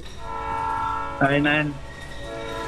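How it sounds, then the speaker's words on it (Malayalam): A train horn in the Roblox video game sounds as one loud, bright blast of about half a second, standing out clearly over a steady background hum. "ട്രെയിൻ വരുന്നു."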